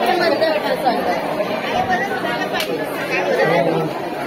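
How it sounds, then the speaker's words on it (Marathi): A crowd fills an indoor space at the Nehru Planetarium with dense, steady chatter, many overlapping voices close by at an even, fairly loud level. "गर्दी झाली तिकडे."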